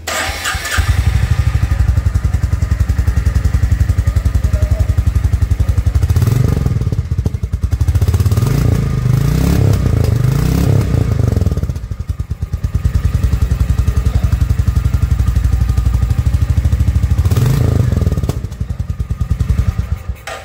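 A Royal Enfield Meteor 350 Aurora with a fully chrome exhaust pipe starts and idles loudly up close, its steady single-cylinder thump rising in two brief revs before settling back, with no talking.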